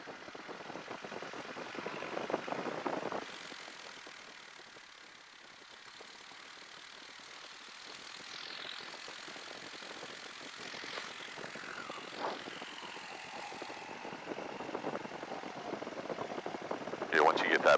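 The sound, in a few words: propeller aircraft engine running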